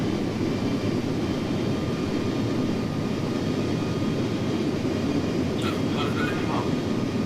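An iniBuilds A300 airliner on landing approach in the X-Plane 11 flight simulator, a steady, loud engine roar throughout, with a few brief higher electronic tones near the end.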